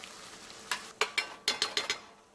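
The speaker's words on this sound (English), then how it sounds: "add about 2 to 3 tablespoons of tomato sauce. Mix this well." Eggplant mixed with tomato sauce in a pan, a quiet sizzle broken by a quick run of close scraping stirs that speeds up toward the end.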